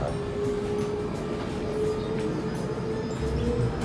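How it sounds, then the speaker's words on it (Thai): A train pulls into a station platform in Sydney with a low, steady rumble and a faint whining tone, heard from inside at a moderate distance. "รถไฟกำลังเข้าเทียบชานชาลาครับ"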